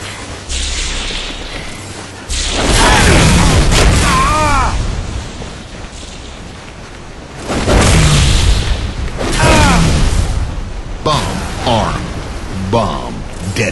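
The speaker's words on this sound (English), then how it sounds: "bomb detonated" A bomb detonates during a Grifball match in Halo Reach, a booming blast with a broad noisy roar that swells twice, mixed with game announcer speech and crowd-like noise.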